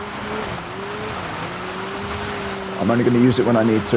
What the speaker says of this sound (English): I think I've worked out the handbrake turn a little bit now.